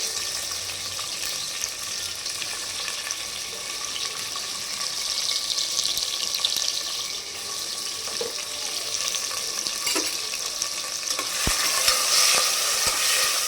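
Tomatoes frying in oil for a mutton biryani give a steady broadband sizzle with occasional stirring scrapes and clinks, moderately loud and close, with no talking.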